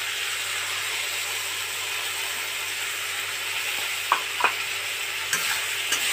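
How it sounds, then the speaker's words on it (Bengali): A mustard and dried chili spice paste sautés in a pan with a soft, steady sizzle close by, then a few sharp clicks and scrapes of stirring near the end. "হালকা একটুখানি কষে নেব।"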